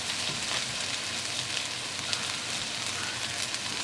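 Ginger and garlic paste sizzles in a hot frying pan of browning onions for a paneer malai korma, a steady bright crackling hiss with no voices.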